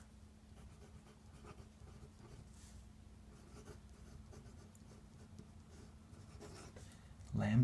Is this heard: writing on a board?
yes